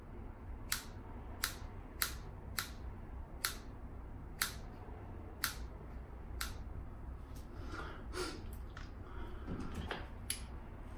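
Hair is trimmed with scissors, a slow series of crisp single snips spaced about half a second to a second apart over a faint steady hiss, growing softer and less regular toward the end.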